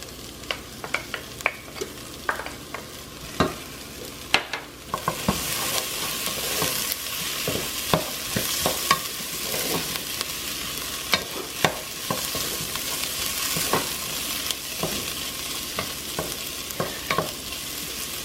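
Minced garlic sautéing with browned onions and carrots in a pot, a steady sizzle that swells partway through, punctuated by repeated spoon knocks and scrapes against the pot.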